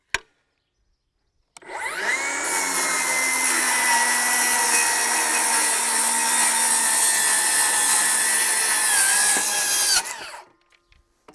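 A Milwaukee rear handle circular saw rips through wood in one sustained, loud cut lasting several seconds, spinning up with a sharp start and winding down at the end, heard alone without voices.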